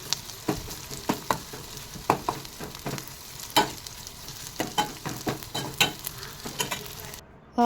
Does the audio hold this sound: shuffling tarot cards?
no